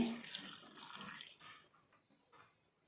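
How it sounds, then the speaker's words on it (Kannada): A little water poured into a pot holding salt, tamarind, green chillies and grated coconut, a short splashy pour that trickles away into quiet drips. "ಸ್ವಲ್ಪ ನೀರು ಹಾಕಿ"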